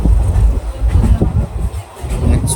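Ganadevta Express passenger train pulling into Bardhaman station, heard from on board as a loud, steady rumble with rhythmic wheel clatter and faint squeals throughout.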